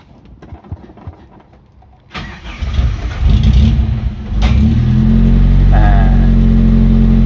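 After faint handling noises, the engine of a used car starts with a sudden burst, settles into a loud steady idle with a brief rev, close up and with no speech.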